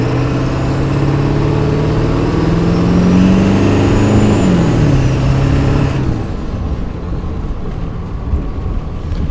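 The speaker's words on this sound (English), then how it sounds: "The turbo, you can actually hear the turbo." Ford OBS truck on a snowy test drive with a new turbo downpipe: a loud, steady engine drone carries a rising turbo whine that swells and then drops away as the throttle lifts, with road and wind noise beneath and no talk.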